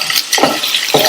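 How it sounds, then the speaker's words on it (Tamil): Half-boiled potatoes frying in a pan, a short burst of close sizzling with a couple of stirring scrapes. "4 நிமிஷமா உருளைக்கிழங்கு ஃப்ரை ஆயிட்டு இருக்கு"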